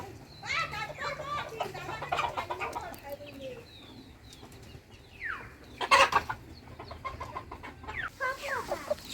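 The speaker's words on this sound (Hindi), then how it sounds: "यहाँ पर है हमारा लोकल मुर्गी के फार्म। ये देखिए बहुत सारी मुर्गियाँ है यहाँ पर।" Many chickens cluck and squawk on a local poultry farm, with hens and chicks nearby, in a busy outdoor scene where people talk over the birds throughout.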